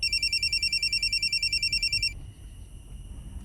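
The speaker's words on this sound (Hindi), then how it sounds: "माँ पापा का फोन है, उठा।" A phone rings with a rapid, pulsing electronic trill that repeats steadily for about two seconds, then stops, leaving quiet room noise.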